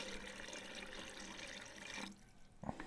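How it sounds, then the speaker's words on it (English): Water pours steadily into a pot of catfish sauce piquant cooking outdoors on a rocket stove, a faint, continuous splashing that cuts off near the end with a small knock. "I'm gonna add water, and I'm just gonna add enough water to basically cover it."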